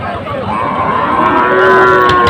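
Calves at a livestock market giving a long, loud, close moo that fills the whole moment, with market noise faintly beneath.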